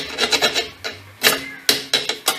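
A scraper rasps across the high spots of a brake backing plate on a 2007-2011 Nissan Versa. The sound is a series of short, close scratchy strokes in an uneven rhythm, about a dozen of them with brief gaps.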